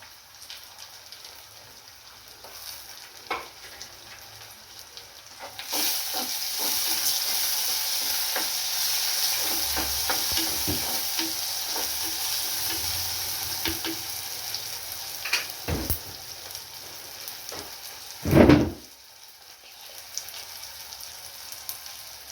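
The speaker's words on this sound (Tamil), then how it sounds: "இது வந்து வட்டி வச்சிருக்க தக்காளி பழத்தை சேர்க்குறேன்" Tomatoes go into a hot pan and fry, and a loud, continuous sizzle swells up after a few quiet clinks. Stirring scrapes run through the hiss, and a sharp knock sounds near the end.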